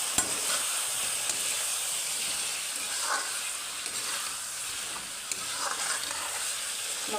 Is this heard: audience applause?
no